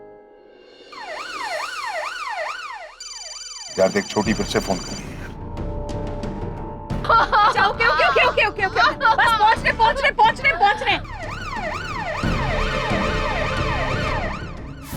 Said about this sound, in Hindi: देखना, मैटरनिटी हॉस्पिटल की एम्बुलेंस है।